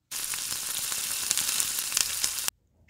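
Dried red chillies, bay leaves, panch phoron and crushed ginger sizzle in hot mustard oil, a steady loud crackling fry with small pops that cuts off abruptly.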